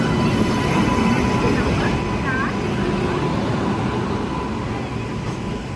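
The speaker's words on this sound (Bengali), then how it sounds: "এখন ট্রেন ঢুকছে এখানে।" A passenger express train pulling into a station at night, a loud steady rumble of wheels and carriages with a brief squeal of brakes, and a voice talking over it.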